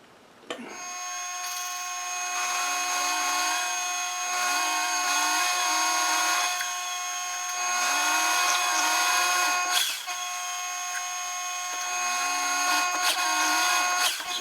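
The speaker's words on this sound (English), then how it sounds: "Now I'll just get this reamer through," A reamer is driven through metal on a lathe, giving a steady, loud machining whine with strong sustained tones that swell and dip as the cut loads up, pausing briefly around the tenth second before continuing.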